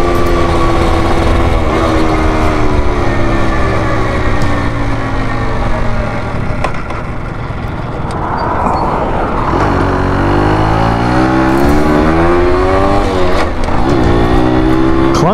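A Yamaha U7E two-stroke motorbike engine revs hard and loud close by, holding a high buzzing pitch, dipping briefly in the middle, then climbing again with no talk over it.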